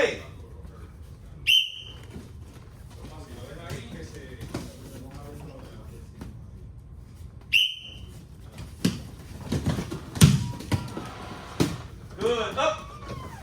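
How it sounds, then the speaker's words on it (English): Two sharp, shrill whistle blasts several seconds apart cut through a busy MMA training room with kids and adults talking and moving around. "Then when I blow the whistle, you step and take down."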